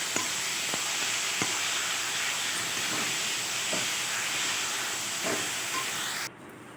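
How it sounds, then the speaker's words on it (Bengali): A paste of ground ginger, garlic and chili fries with onions in a pan for mutton curry, a steady close sizzle with faint stirring taps, cutting off sharply near the end. "সেই মশলাটা এবার পেঁয়াজের সঙ্গে ভালো করে কষিয়ে দেবো"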